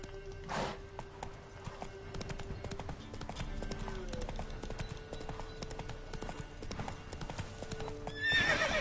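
Rapid hoofbeats clatter in a steady galloping rhythm in The Witcher 3, with a horse whinnying near the start and again near the end.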